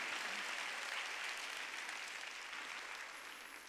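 A congregation at a Korean church's Wednesday worship service breaks into steady, dense applause, continuous and even, tapering a little at the end, with no speech over it.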